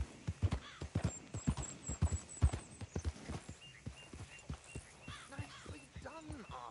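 Galloping horse hooves in the video game Red Dead Redemption 2, a rapid, steady clip-clop rhythm that is loud at first and grows fainter, with a voice speaking over the later part.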